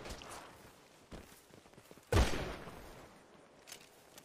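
Gunfire in the GTA video game: one loud, sharp blast stands out in the middle, with fainter shots and clicks scattered around it against a quiet background.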